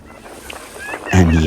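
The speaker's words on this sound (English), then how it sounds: "Thousands of seagulls come to shore to be fed by the visitors." Siberian seagulls call at Dianchi Lake in Yunnan, China, where thousands gather along the shore to be fed by visitors; a loud, close, harmonic honking cry sounds near the end.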